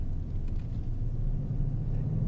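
Road traffic passing along Conway Road in Orlando near a construction zone, a steady low rumble of car engines and tyres that holds loud and continuous, with no voices.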